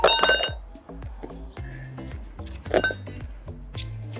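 A Boral Inspire synthetic slate roof tile is struck in an impact test, giving a sharp clacking hit at the start and a second one near the end, followed by faint clinks and low thumps.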